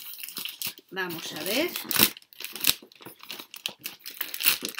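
A Café y Letras book subscription box is unwrapped by hand, with scissors nearby: loud bursts of crinkling and tearing paper or plastic come close up, broken by short pauses while someone talks in Spanish.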